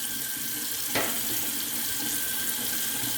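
Water runs steadily from a tap into a sink while clothes are washed, a constant close rush with a brief splash near the start and no talking.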